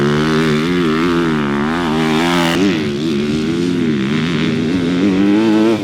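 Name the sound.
2026 Honda CRF250R motocross motorcycle engine riding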